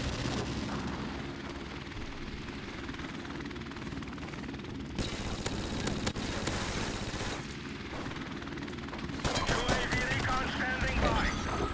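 P90 submachine gun fire in a video game: dense, continuous rattling bursts layered with booming broadband blasts, loud and steady throughout and growing harsher toward the end.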